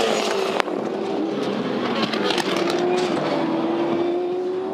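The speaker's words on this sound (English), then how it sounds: "So it skated through the gravel." A Supercars race car sliding through gravel at the Tasmania SuperSprint, a steady engine drone with a shifting pitch and a gritty rushing wash throughout, plus a sharp click early on.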